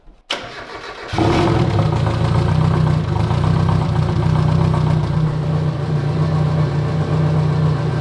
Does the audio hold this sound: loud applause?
no